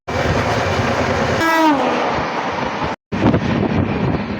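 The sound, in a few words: 17309 Yesvantpur–Vasco da Gama Express train arriving with horn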